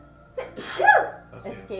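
A single sharp sneeze bursts out at a tabletop roleplaying game session, close and loud, with people talking just before and after it.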